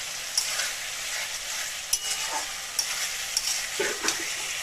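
Chopped tomato sizzles in a frying pan with okra and gram flour, a steady close crackle with occasional stirring scrapes and brief pops.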